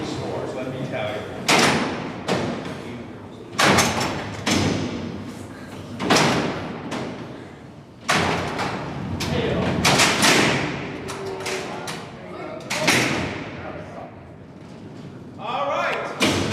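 Heavy steel cell block doors at Alcatraz prison close with repeated loud clanging slams, about a half dozen spaced every couple of seconds, ringing in a large echoing hall.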